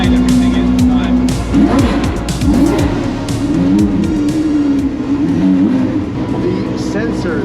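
Twin-turbo V12 Ferrari engine revs hard and climbs quickly in pitch, loud and close, with people talking over it.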